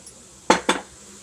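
Two quick metallic scrapes of a spoon against a pot as grated carrots for gajar halwa are stirred, close and clear, then quiet.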